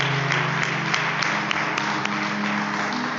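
Church congregation standing and applauding during a Portuguese-language evangelical service, steady dense clapping filling the room throughout, with a faint hum underneath.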